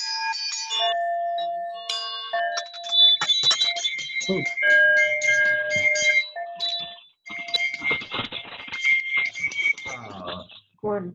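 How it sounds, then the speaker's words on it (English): Many hand bells and chimes ring together at the end of a church service, in a busy, overlapping jangle of bright tones, steady and loud for several seconds with scattered clanks. "let us ring the service out with a hearty ringing of our bells and our chimes"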